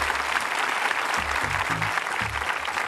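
Audience applause at a live televised Q&A panel at the Garma Festival in Yolngu country, Arnhem Land: dense, steady clapping from a crowd filling the whole stretch, with faint low voices and rumbles underneath.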